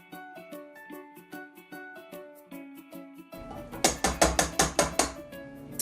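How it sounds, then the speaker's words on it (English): A medium-sized lemon zested by hand. Light ticking taps give way to a run of loud, close, rhythmic rasping strokes. "I'm just going to add the zest of this one lemon."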